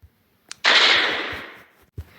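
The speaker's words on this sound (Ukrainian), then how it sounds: "Салют!" A fireworks salute set off in the Melon Playground video game: one loud, sharp burst that crackles and hisses as it slowly fades over about a second, followed by a short thump.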